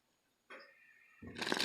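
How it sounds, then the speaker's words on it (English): A brief rustle of tarot cards, then a louder riffling shuffle building at the end, close up. "so I'm just shuffling."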